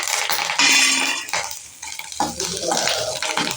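Black pepper and curry leaves drop into a pan and are stirred with a metal spoon, a burst of crackling sizzle followed by scraping and clinking against the pan, close and fairly loud, without any talking.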